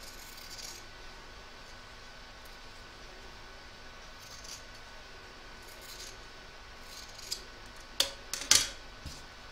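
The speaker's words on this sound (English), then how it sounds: "you're just going to trim off some of the excess fabric, leaving about 1/4 inch seam allowance" Scissors trimming excess quilting fabric at the seams of a placemat, heard as a few quick close snips near the end after a quiet stretch of faint room noise.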